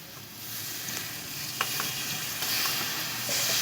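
Spice paste sizzles and fries steadily in a pan as a little water goes in, a continuous close hiss with a few brief crackles, no talking.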